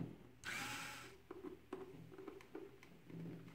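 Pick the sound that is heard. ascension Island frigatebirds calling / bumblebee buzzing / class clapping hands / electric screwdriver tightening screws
electric screwdriver tightening screws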